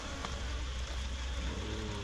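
Light rain falls steadily, a soft, even hiss of fine drops with no talking over it.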